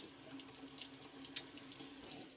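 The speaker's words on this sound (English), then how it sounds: "I'm going to rinse off my face" Water runs steadily from a bathroom sink tap as a face is rinsed after a shavette shave, a continuous close stream with one brief sharper splash midway and no talking.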